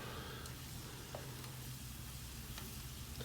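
Tocino, a sheet of cured Filipino pork, fries steadily in a pan with a continuous close sizzle, a low hum running beneath it and a few faint clicks scattered through.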